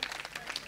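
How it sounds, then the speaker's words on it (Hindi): Audience clapping during a spiritual discourse hall talk, a brief soft patter of hands, faint and distant, lasting under a second. "अच्छा तालियां क्यों बजा रहे हो आप?"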